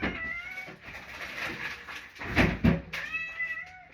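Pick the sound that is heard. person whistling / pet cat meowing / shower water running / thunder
pet cat meowing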